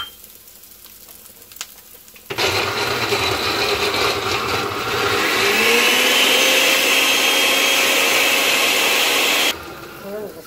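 A kitchen blender grinds tomatoes for a mushroom lasagna sauce, starting abruptly and running loud and whirring for about seven seconds, its pitch climbing as the load loosens, then cutting off.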